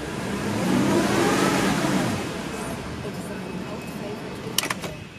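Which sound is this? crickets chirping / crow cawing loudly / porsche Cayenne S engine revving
porsche Cayenne S engine revving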